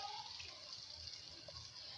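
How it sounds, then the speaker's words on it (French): Water poured into a tajine of minced meat, a soft continuous pour with a steady hiss of liquid, quiet and close, with no voices over it. "c'est maintenant qu'on va rajouter un peu d'eau"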